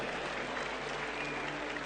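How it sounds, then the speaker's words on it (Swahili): A crowd at a Madaraka Day celebration applauds the military pilots performing overhead, a steady wash of distant clapping that stays even throughout the short stretch. "Tuwape makofi marubani wetu tafadhali."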